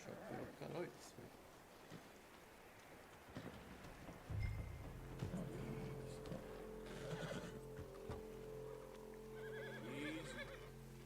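A horse in a video game neighs in a drawn-out whinny under rain ambience, with someone talking around it.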